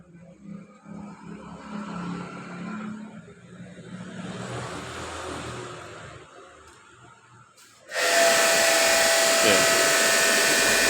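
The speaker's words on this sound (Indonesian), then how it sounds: "Udah kayak pakai mesin jet cleaner yang mahal aja" A toy high-pressure jet cleaner, a battery washer rated above 100 bar, bursts into a loud, steady spray hiss that starts suddenly about two-thirds through and continues unbroken, after low background noise.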